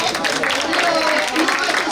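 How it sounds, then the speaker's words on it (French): Dense, steady applause from a room of people honouring volunteers and guests at a seniors' crêpe gathering in a community hall in Bobigny, a continuous clatter of many hands that holds level for the full stretch. "je voulais qu'on applaudisse aussi les bénévoles, aussi les gens qui sont venus, qu'on applaudit très fort"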